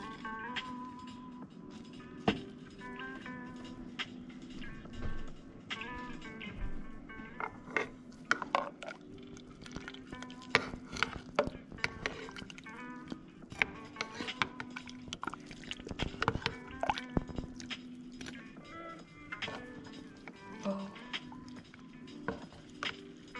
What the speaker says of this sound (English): we're gonna drop in the hot chocolate bomb